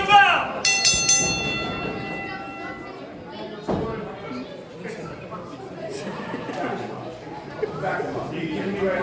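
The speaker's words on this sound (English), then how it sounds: "Ring the bell!" Wrestling ring bell at a PAPW Dog Days 2026 independent wrestling show, a sharp metallic ding with ringing overtones near the start, then crowd chatter and noise over a loud arena ambience.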